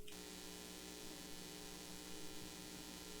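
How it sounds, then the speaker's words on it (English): Played back from a homemade antenna, a faint, steady electrical hum mixed with static hiss runs evenly throughout, with no voices. "So you're going to be hearing some humming noises."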